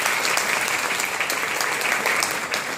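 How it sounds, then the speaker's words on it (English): Steady, dense applause fills a keynote hall as the audience honours those who built a legacy, sustained and fairly loud without pause. "let's give them a round of applause"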